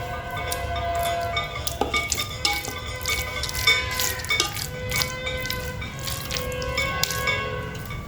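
Fried onions for a chicken dum biryani are stirred and mixed in a pan with a spoon, giving close scraping, clinking and soft sizzling that continue steadily with small irregular knocks throughout.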